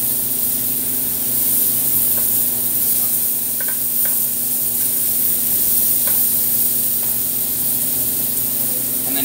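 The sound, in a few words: scallops searing in a hot pan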